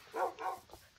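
Dogs in a video game give two or three quick, faint barks in a short burst, with no talking.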